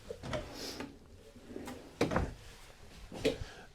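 Kitchen storage drawers in a 2024 White Hawk 26FK RV slide open and thump shut several times, giving a few sharp knocks and soft rolling scrapes at close range.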